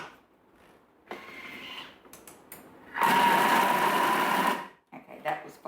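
A Thermomix chops leeks in a loud, steady whirring blitz lasting about two seconds, close up, with quieter kitchen handling noises before and after.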